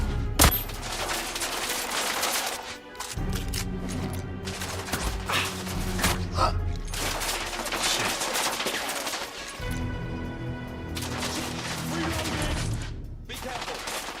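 Heavy gunfire in a shootout in The Order: 1886, dense bursts of rapid shots and loud fusillades filling the whole stretch, with brief pauses and shouting voices mixed in.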